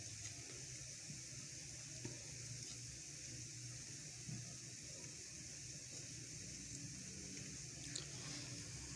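Dal koftas fry in a pan of oil, producing a faint, continuous sizzle and bubbling hiss with a few soft clicks, steady and unbroken, with no talk.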